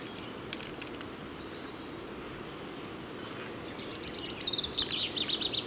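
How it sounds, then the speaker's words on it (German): Birds singing along the Isar river in Germany, faint chirps over a steady rush of flowing water, with a run of quick repeated tweets growing clearer toward the end. "Hört ihr die Vögel?"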